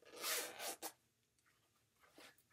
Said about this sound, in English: Zipper pull.